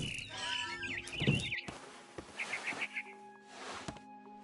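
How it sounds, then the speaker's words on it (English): Bird chirps from a video game scene, a barn swallow calling outside a window, sounding as several short warbling trills at moderate volume among other soft game sounds, with no talk. "Then I heard chirping outside my window."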